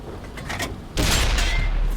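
A Kanonenjagdpanzer tank destroyer fires its main gun in World of Tanks on console, one loud sudden blast breaking over quieter battle ambience and lingering as a heavy rumbling roar to the end.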